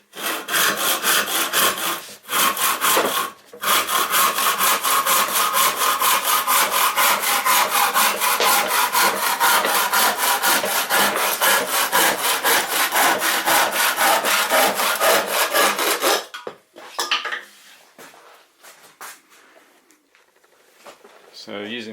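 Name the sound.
handsaw cutting scrap wood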